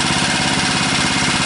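A Honda lawn mower engine fitted with a Chinese aftermarket carburetor runs close by, with a loud, dense, steady chugging drone as it is throttled down.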